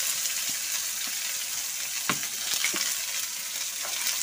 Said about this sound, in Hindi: जीरा तड़कने के बाद इसमें डाल देंगे हम बारीक कटी हुई प्याज